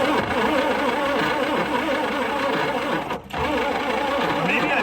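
A 1960 Chrysler Saratoga engine cranking over steadily with a continuous churning drone and a brief pause near the end, without catching.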